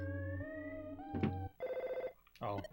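In the game Earthbound, a telephone rings as Dad calls, in short electronic bursts. The ring is fairly faint and sits among synthesized game tones, with brief pauses between bursts.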